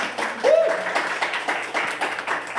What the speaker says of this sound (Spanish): Un aplauso para ella también, por favor.